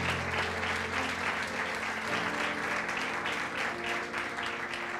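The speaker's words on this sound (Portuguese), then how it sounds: "Dá um aplauso a Jesus." Steady applause from a church congregation during a worship service, continuous rhythmic clapping at moderate volume over a low musical drone from the room.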